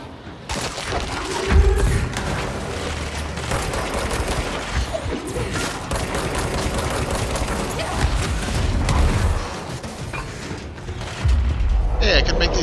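Gas bombs in the game Control go off in heavy booms and rumbling blasts amid chaotic combat noise, loud and close, with a voice talking over part of it.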